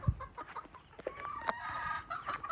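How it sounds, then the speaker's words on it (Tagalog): Breeding chickens in a farm coop cluck in short, uneven bursts, with a few sharper calls and scattered close clucks, no voices. "Tapos yung mayroon akong kulungan dito ng manok"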